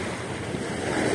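Sea waves wash against a beach in Turkey in a constant close rush while a light breeze buffets the microphone, with no talking.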